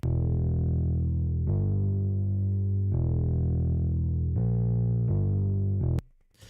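A processed synth bass plays long low notes in a slow phrase, full and slightly gritty, loud throughout, then cuts off with a short click.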